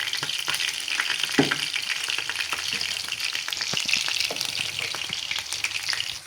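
Fried rice with tomato sauce and soy sauce sizzling steadily in a hot wok while being stirred, with frequent scraping and clinking taps over a dense, continuous frying hiss; no talking.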